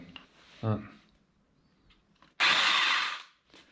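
A brief voice, then a BERALA BL-8115 electric chainsaw motor bursts on loudly for about a second, whining at high speed before spinning down, with a quick rev after.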